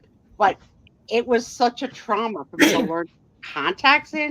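A single sharp sneeze bursts out during a live vintage sale chat, set among a woman's steady conversational speech before and after it.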